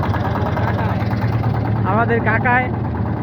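A trawler boat's engine runs steadily as it pulls away, a low continuous drone beneath people talking nearby.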